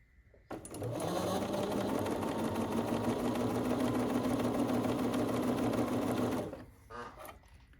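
A close sewing machine stitches a quilt block in one continuous loud whirring run of about six seconds, starting and stopping abruptly, with quiet room sound before and after.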